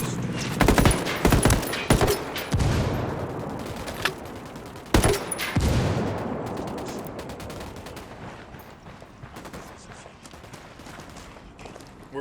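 Gunfire erupts in Ghost Recon Wildlands on PS5 Pro, with loud dense bursts of automatic and single shots up close, heavy booms echoing and then thinning into scattered distant shots, with brief voice chatter.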